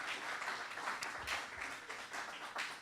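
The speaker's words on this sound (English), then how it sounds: "Let's give him another round of applause." A conference audience applauds after a keynote address at a forum, with steady, moderately quiet clapping that holds for the whole stretch without talk.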